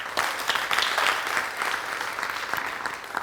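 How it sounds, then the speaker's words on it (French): Studio audience on a French-language talk show applauding a guest, a steady, fairly loud burst of many hands clapping together, without talk over it. "Je voudrais qu'on l'applaudisse très très fort."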